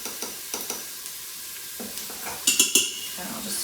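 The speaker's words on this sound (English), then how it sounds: "I'll just stir that quickly because we don't want things to burn" Spices with turmeric and garlic powder are stirred quickly in a hot frying pan, giving soft scraping strokes over a steady sizzle, with a few louder clinks of utensil on pan near the end.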